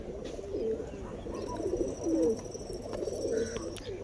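Pigeons kept by a fancier in Nagpur coo softly and repeatedly up close, low warbling calls overlapping against faint background noise.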